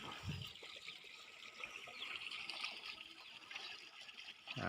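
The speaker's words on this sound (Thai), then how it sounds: "น้ำไหลแรง เลยนะครับผม" Steady rushing water pouring hard from the pipe of a 750-watt solar-powered water pump, a continuous hissing flow heard close up, with a couple of low thumps near the start and end.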